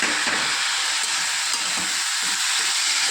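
Chopped tomato pieces sizzle steadily in a hot pan in a home kitchen, giving a loud, continuous hiss and crackle with faint stirring and no talking.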